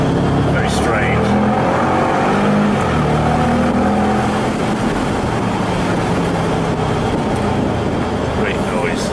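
A Bentley GTC V8 engine roars steadily while driving, a loud, sustained low rumble heard from inside the car for several seconds.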